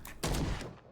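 Gunfire in the Call of Cthulhu video game: a loud burst of one or two overlapping shots that booms and then fades over about half a second, with no talking.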